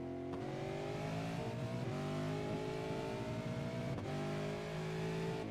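An onboard race car engine in the iRacing sim at the Bathurst circuit drones loud and close, revving through gear changes with brief dips between pulls, no voices.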